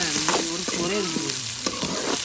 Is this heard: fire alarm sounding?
no